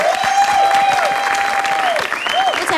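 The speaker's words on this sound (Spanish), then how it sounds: "Un fuerte aplauso, por favor." Strong audience applause in a Spanish-language TV studio interview, a steady loud burst of many hands clapping with whistles and cheers riding over it.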